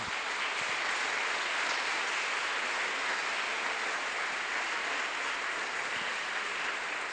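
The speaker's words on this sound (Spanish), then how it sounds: "Un aplauso para el Señor." Steady, dense applause from a church congregation, even and continuous throughout, heard from a slight distance without talk.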